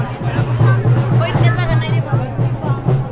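Dense crowd chatter fills the air at the Sailani Baba dargah during the Holi yatra in Buldhana, with many overlapping voices forming a close, continuous babble.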